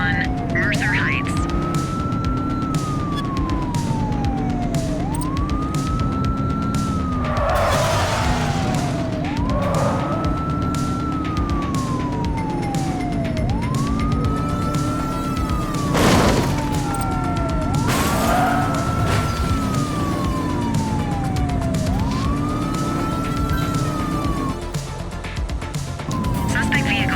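Police car sirens during a pursuit in the game The Precinct, a loud, close wailing siren rising and falling in steady cycles over a low engine drone, with an occasional burst of noise and a voice speaking.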